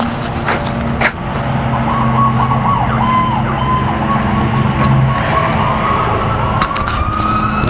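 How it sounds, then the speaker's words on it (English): Several emergency sirens wail together, rising and falling over a loud, continuous background rumble. "And then the other sirens start up now."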